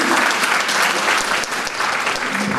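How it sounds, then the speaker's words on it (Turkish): An audience at a panel in Linz on the Zazaki language gives a panelist a dense, even round of applause that fills the room and continues throughout. "Eren'e bir alkış alalım."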